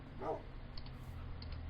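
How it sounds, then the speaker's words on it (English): A few dogs on a small farm give faint, distant barks and yips, a short sharp cluster followed by scattered softer yelps over low background noise. "We have 13 dogs."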